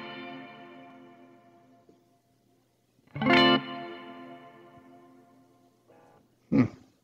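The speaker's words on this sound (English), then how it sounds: "It repeats almost like a delay." Guitar through an Earthquaker Dispatch Master delay and reverb pedal: a decaying sustained chord, then two sharp strummed bursts about three seconds apart, each trailing into modulated, washy repeats, close and fairly loud with no talking.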